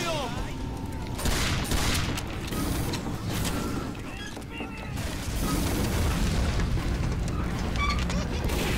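Rapid gunfire and mechanical clatter from a Team Fortress 2 match, loud and continuous, with bursts of shots layered over game noise throughout.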